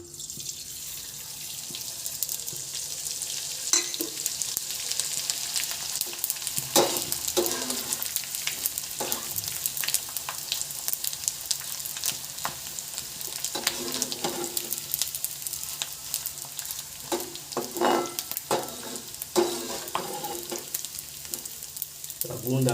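Ghee bubbles and sizzles in a pan while making adadiya pak, a Gujarati sweet, with repeated spoon scrapes and stirring clatter over a continuous frying hiss and some running-water noise.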